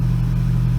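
A Toyota Tacoma engine idles steadily on a cold start with newly installed 440cc injectors, giving a constant low, even drone with no revving, heard alone at close range.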